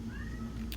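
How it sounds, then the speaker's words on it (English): A house cat meows once, faint and in the background, over a low steady hum. "Apologies if you hear my cat meowing in the background."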